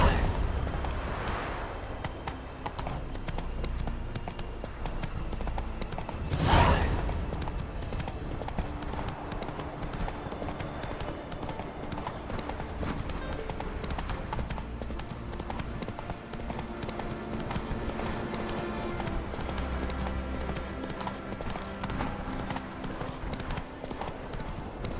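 The horse Roach gallops in The Witcher 3: Wild Hunt, hoofbeats clip-clopping in a steady rapid rhythm under game ambience. A brief louder impact comes partway through, and a voice talks quietly now and then.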